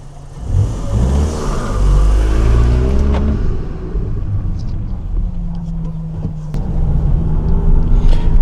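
Volkswagen Mk8 running Unitronic software accelerates on the road, its engine rising in a loud, close rumble with climbing revs and shifts, while people talk inside the cabin.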